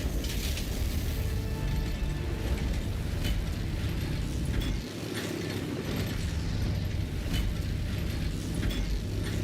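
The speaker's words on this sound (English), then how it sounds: "powering up the last cannons." Heavy mechanical whirring and ratcheting as the last cannons power up during a siege in Warhammer 40k: Space Marine 2, a loud steady grinding roar with clanks, briefly dipping midway before resuming at full strength.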